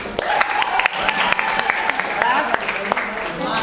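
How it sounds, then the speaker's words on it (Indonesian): Students clap in a school hall during a Ramadan religious program, with sharp individual claps over a steady background of room noise and murmuring voices. "tepuk tangan"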